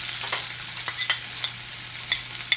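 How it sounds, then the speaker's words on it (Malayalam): Coconut pieces crackle and sizzle in hot coconut oil while breadfruit roast is cooked, a close, bright frying hiss with quick scraping stirs and no talking. "പിന്നെ ഒന്ന് ചൂടാകുമ്പോൾ നമുക്കതിലേക്ക് കുറച്ച് തേങ്ങാക്കൊത്തിട്ട് കൊടുക്കണം"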